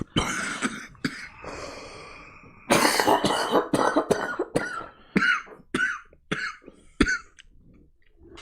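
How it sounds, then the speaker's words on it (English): Repeated coughing and throat clearing in sharp bursts, some in quick clusters, close and fairly loud with short gaps between. "All the coughing."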